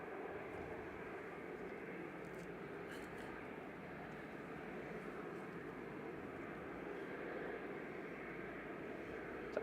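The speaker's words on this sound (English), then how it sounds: "Taxiing over to us is Ryanair going to Corfu. 737 MAX 8200 9H VUP, flight 2100, operated by Malta Air" A Ryanair Boeing 737 MAX 8-200 operated by Malta Air taxis at Manchester Airport, its engines giving a steady, distant, faint broadband roar that holds even throughout.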